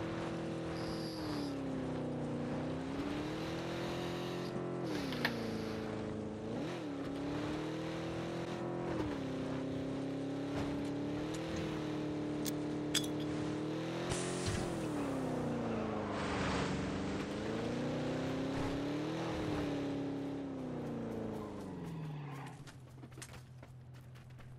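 A car in the battle-royale game PUBG drives steadily with a continuous engine drone that rises and falls as it revs and shifts, loud and close throughout, slowing toward the end.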